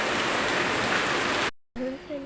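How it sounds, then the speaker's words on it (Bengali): Heavy morning rain pours down as a loud, steady, dense hiss that cuts off abruptly, then a voice follows briefly. "এত জোরে জোরে বৃষ্টি করছে"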